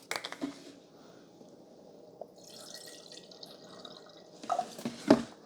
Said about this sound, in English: We're going to fill it up to the 2 mark. So the 2 cup mark with pure vinegar.